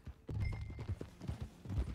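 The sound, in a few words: horse hooves galloping in the video game Red Dead Redemption 2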